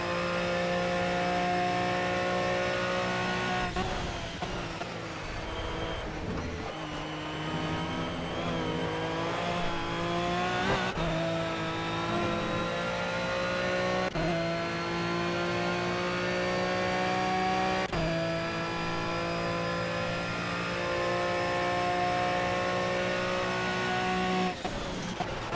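An Aston Martin Vantage V12 GT3 racing at Monza in Project CARS screams through the gears, its engine note climbing and dropping sharply at each shift across a continuous, loud fast lap, with no talk over it.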